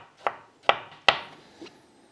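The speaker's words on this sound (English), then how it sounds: "Cut the bottom piece off, and I will slice very thinly." A knife slices thinly through fennel on a board, three crisp, sharp cuts in quick succession followed by a softer fourth, each close and distinct with brief quiet gaps.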